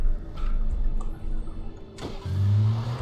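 A video game SUV engine turns over and catches, settling into a low steady idle after a second or two of quiet background.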